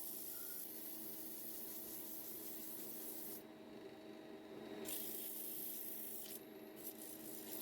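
Steady, continuous sanding rasps across scrap wood as the grits climb toward 320, a soft, even friction noise over a low hum with brief lighter moments.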